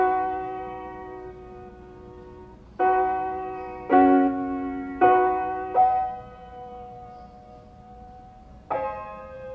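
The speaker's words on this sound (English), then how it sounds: "one of the first things I added was a piano sound to fill up some of the lower mids" Soft piano chords fill the lower mids of a lofi bachata beat, struck several times at uneven intervals and left to ring and fade over a quiet, hazy background.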